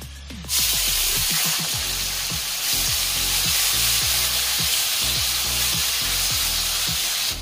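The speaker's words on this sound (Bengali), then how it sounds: "এখন দিচ্ছি একটা মাঝারি সাইজের কুচনো টমেটো" Chopped medium tomato frying in hot oil with cardamom, a cinnamon stick and a bay leaf for a katla fish curry, a loud steady sizzle with repeated scraping stirs of a spoon in the pan.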